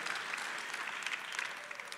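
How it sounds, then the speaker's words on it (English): Congregation clapping in a church, a steady dense patter of many hands filling the room, moderately loud and gradually easing off, with no voices over it. "Did y'all notice that the claps are going lower and lower and lower?"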